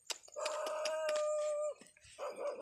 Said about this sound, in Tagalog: naririnig ko na yung aso guys.